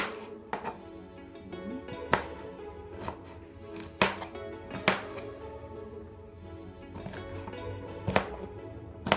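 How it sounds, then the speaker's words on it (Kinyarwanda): Vegetables, including bell pepper, being chopped into small pieces with a knife for vegetable crepes, giving repeated sharp knife taps on a cutting board in an irregular rhythm, close and fairly quiet. "nayo ugenda uyikata ya bice bito bito nk'uko twakase ibindi, witonze rwose."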